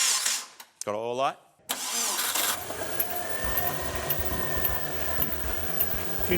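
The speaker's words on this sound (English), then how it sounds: "A few noisy belts, but it sounds pretty healthy. Sounds like a Subaru." After a brief voice, a Subaru WRX engine fires up and settles into a steady running idle with some belt noise, continuing evenly at moderate loudness to the end.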